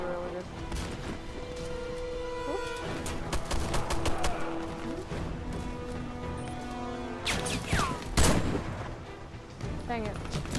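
Rapid gunfire bursts and sharp explosive cracks from the online shooter Warface, repeated shots and booms layered over busy game effects at steady loudness.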